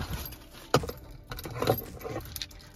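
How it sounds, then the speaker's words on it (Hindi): A car key for a Mahindra Scorpio N Z8L diesel jangles in a hand inside the cabin: a sharp close metallic shake, then a second, softer rattling burst, with no talking. "चाबी कुछ इस तरीके की दी है"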